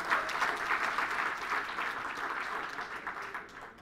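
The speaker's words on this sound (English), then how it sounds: "Give yourself a round of applause." A roomful of people claps steadily, a dense wash of applause that holds for a few seconds and starts to fade at the end.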